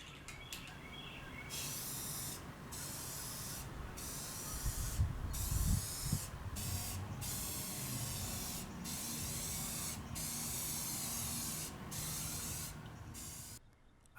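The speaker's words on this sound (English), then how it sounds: "I used insulation foam because the gap next to the ceiling was too big for silicone to cover." Insulation foam hisses from a spray can into a gap next to a porch ceiling in a run of steady bursts broken by short pauses, close and alone, with faint birds in the background.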